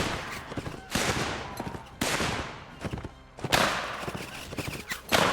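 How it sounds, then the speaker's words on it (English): Rapid gunfire crackles through a mounted American Civil War battle in the video game Mount & Blade Warband, with sharp shots and volleys repeating irregularly, fairly loud, amid a dense battlefield din. "Yeah, you hear all those bullets buzzing by."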